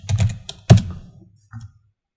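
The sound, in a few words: typing vehicle year on computer keyboard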